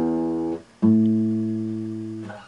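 Two guitar strings ring a perfect fourth apart, each note sounding alone with a clear harmonic tone and a short gap between them, decaying slowly with no voices.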